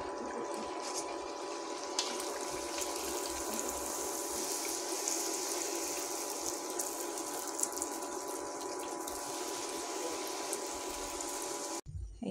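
Luchi, puffed flatbread, fry in hot oil with a steady, dense, close hiss that runs almost unbroken for several seconds before cutting off abruptly at the end.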